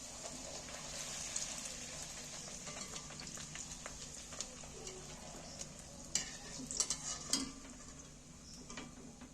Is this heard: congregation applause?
no